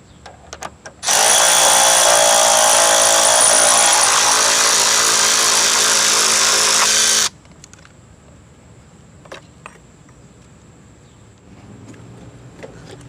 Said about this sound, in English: You'll need a 10mm socket to remove the hold down bolts.